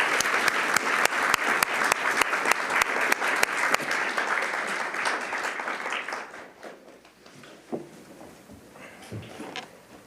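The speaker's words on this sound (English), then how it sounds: "Please, round of applause." A crowd at a student government senate meeting applauds steadily for several seconds, the clapping thinning out and fading to a few scattered claps and murmurs.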